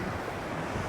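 Ocean waves surge against a rocky shore, a steady broadband roar of surf with wind noise buffeting the microphone, loud and continuous throughout.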